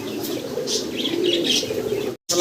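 Pigeons at a breeder's loft coo continuously in a soft, close murmur with some higher chirps, the sound cutting off briefly near the end before resuming.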